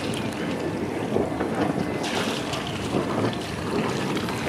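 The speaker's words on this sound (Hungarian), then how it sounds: "És befutott egy hajó." A boat comes in on the water along the Croatian coast, heard as a steady wash of engine and water noise mixed with gusty wind buffeting the microphone, no speech.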